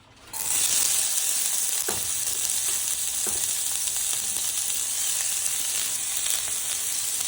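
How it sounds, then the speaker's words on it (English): Onions sautéing in a cast iron skillet give off a loud, steady sizzle that starts almost at once and holds throughout, with a few light scrapes and no talking. "I'm gonna saute the onions until they're translucent, just a little tender."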